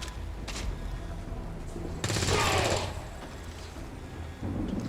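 Rapid burst of gunfire in the strategy game XCOM 2, a loud dense volley lasting under a second amid steady background game sound, with a couple of fainter shots earlier.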